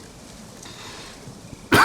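After a quiet stretch of low room noise, a single sharp cough bursts out close and loud at the very end.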